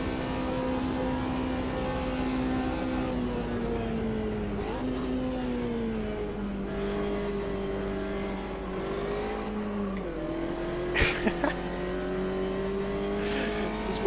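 A Porsche Cup race car engine in the video game Automobilista 2 at Bathurst, a steady droning whine that holds, dips slightly as the revs shift, then climbs again, with a few short sharp knocks near the end.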